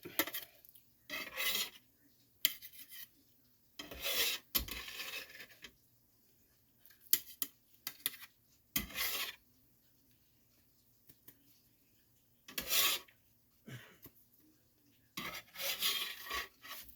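Aldi flour is sifted for pancakes in a home kitchen, repeated bursts of raspy metallic scraping and rubbing separated by quiet pauses, close and fairly soft.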